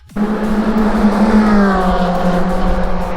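A Ferrari sports car arrives at full speed, its loud engine note rising sharply into a close, sustained howl that slides slightly lower as it passes, with a hint of tyre noise.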